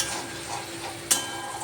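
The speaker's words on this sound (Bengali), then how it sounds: "ঠিকঠাক করে মশলাটাকে আমি কষিয়ে নিচ্ছি।" Spice paste made with onion, cumin, turmeric, tomato and green chilli is stir-fried in a pan. A soft, even sizzle runs throughout, with one brief scrape or tap of the spoon partway through.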